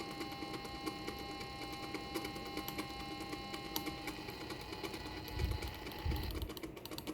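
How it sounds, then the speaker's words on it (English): A 3D printed full-wave pulsed motor runs with a steady whirring hum and a faint rhythmic rubbing from its worn commutator, close and continuous, with a few low thumps near the end. "The rubbing noise is actually inside the motor itself"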